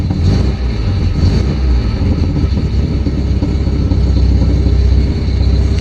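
A 1967 Volvo 1800S engine runs with a dense low rumble, loud and close. The tone stays steady throughout with no clear start or catch.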